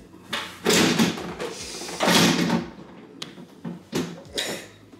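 A kitchen sauce drawer being pushed and pulled in and out, giving a few loud rubbing, knocking bursts with quieter clunks and snaps in between, close by.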